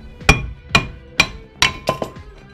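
Hammer blows loosening a stuck front brake hub on a Renault Logan or Sandero, six sharp metallic strikes ringing out close by at an uneven, steady pace.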